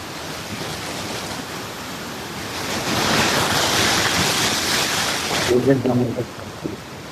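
Fast-flowing floodwater rushing after rain, a loud continuous roar of water with wind buffeting the microphone, swelling midway, with a brief voice near the end.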